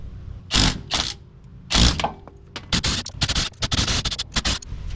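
An impact wrench removes bolts on a Nissan 350Z drift build, sounding as loud, close bursts of rapid hammering that come in short repeated runs with brief pauses between them.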